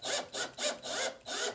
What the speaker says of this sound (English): Nope, I'm just rounding the screw now.